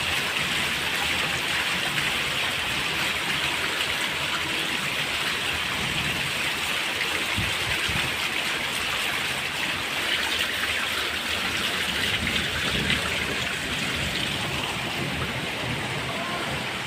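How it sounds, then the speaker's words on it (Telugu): Heavy rain pours down a flight of steps like a waterfall, a dense and continuous rush of splashing water that stays loud and unbroken from start to finish. "ఇక్కడ చూసారా వాటర్ ఫాల్స్ లాగా స్టెప్స్ పైన నుండి ఇలా వర్షం అనేది పడుతుందండి."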